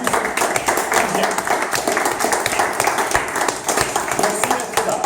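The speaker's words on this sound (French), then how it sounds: "Je demanderai de l'applaudir avec son épouse" An audience at a draughts club's anniversary awards evening applauds a man and his wife, a steady dense clapping that runs throughout at fairly loud level, with a few voices mixed in.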